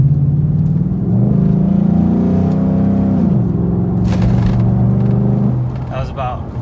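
Ford F150 5.0 V8 with a JLT cold air intake revved to half throttle, a loud deep engine drone that rises and falls, with someone speaking over it.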